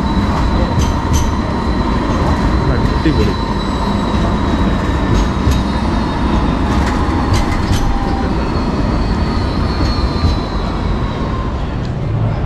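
A tram running through Sydney streets gives a loud, steady rumble with metallic wheel squeals rising above it; one person speaks briefly.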